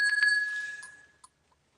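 A vintage 1983 M.J. Hummel bell rings with a bright, clear tone that slowly decays, followed by one short, softer tap near the end.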